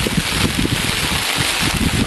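Heavy rain in the backcountry of Bahia, with cattle standing out in it, heard as dense, loud, continuous hiss and patter close to the microphone, mixed with buffeting wind noise.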